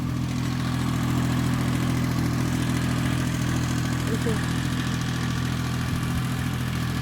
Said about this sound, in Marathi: इकडं आलाय बघा ट्रॅक्टर